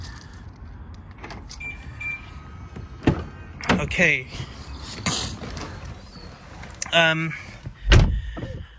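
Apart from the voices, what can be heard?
BMW M3 E92 being unlocked and door opened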